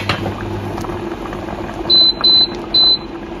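Fish soup simmers gently on low heat, a steady bubbling hiss throughout, with a few short electronic beeps near the end.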